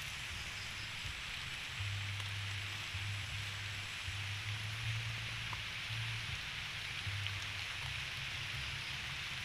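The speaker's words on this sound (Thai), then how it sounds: "ฝนมาแล้วพี่น้องจ้ะ" Steady rain falls outdoors during a mushroom-foraging trip, a dense, even hiss of drops that carries unbroken for the whole stretch with no voices, holding at a moderate, constant level.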